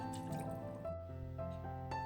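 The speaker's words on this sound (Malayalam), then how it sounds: "ഇനി കടല വേകാൻ പാകത്തിന് വെള്ളം ഒഴിച്ചിട്ടുണ്ട്" Water poured into a pot of chickpeas for Kerala kadala curry, a close liquid pour with drips and a trickle running continuously through the short moment, no voices.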